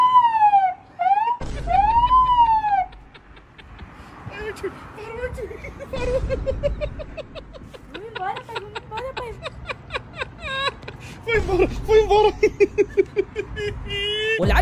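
A boy mimics a police siren through a megaphone, producing rising and falling wails and rapid yelping bursts, loud and close, with short breaks between phrases.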